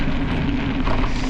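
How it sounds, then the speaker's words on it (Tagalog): Light drizzle falls outdoors on a quiet gravel road, a steady soft hiss of fine rain with no distinct drops standing out. "Lakas na ng ambon"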